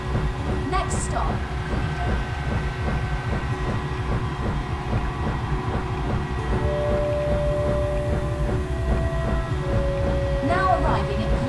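A metro train rides along the track in the video game Infinity Rising, with a steady rhythmic rumble and clatter, joined by a brief tone and a recorded announcement voice.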